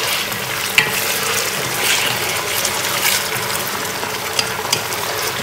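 Chicken thigh pieces sizzle and crackle steadily in a hot frying pan for Surinamese mixed rice, a continuous loud frying hiss with occasional pops and stirring, no voices.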